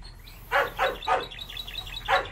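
A dog barks in a series of about five sharp, fairly close barks at an uneven pace, with lighter yips between them, heard alone without talk.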